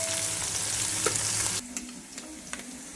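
Chicken pieces with onions frying in a pan, a loud sizzle that drops abruptly partway through into a quieter crackle with occasional stirring clicks.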